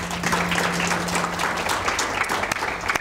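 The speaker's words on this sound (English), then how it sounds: "Please, a round of applause to my panel." Audience applause for a panel at a World Economic Forum debate, steady clapping from a crowd in a hall with distinct individual claps standing out, a faint hum underneath.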